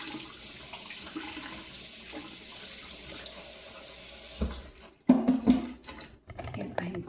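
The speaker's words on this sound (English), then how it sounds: "I'm going to wash my hands." Water running steadily from a kitchen sink tap while hands are washed, a continuous hiss that cuts off, followed by clattering handling sounds nearby.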